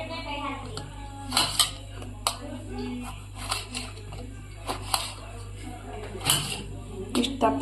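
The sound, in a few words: cutting tomatoes into thick pieces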